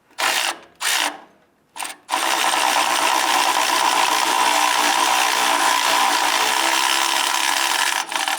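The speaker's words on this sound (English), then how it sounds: "We're now going to use our 15mm socket on our electric impact" An electric impact wrench with a 15mm socket loosens a bolt on the passenger-side exhaust manifold of a 2002-2008 Dodge Ram 1500. Three short, close bursts are followed by a sustained, loud hammering whir lasting several seconds.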